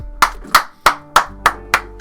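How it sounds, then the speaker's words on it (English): Seven loud, sharp hand claps at a steady rhythm of about three per second, close and alone in a quiet room. "My clapping is really loud."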